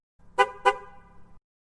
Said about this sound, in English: This would have been a more kindly honk.